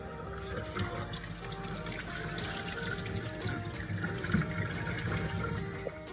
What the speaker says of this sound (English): Once done, you're going to strain it and cool it with some cold water.